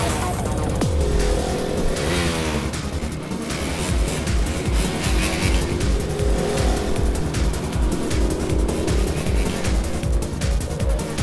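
Motorbikes racing at high speed during a chase, engines roaring loudly and continuously with sharp revving surges and a brief skidding squeal, set against a busy action-film mix.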